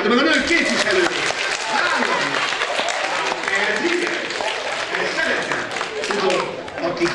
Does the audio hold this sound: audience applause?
yes